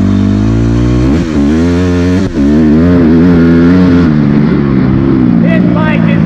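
Dirt bike engine revving loudly on a farm trail, a close, strong drone that rises and falls through several throttle changes, with a rider talking over it.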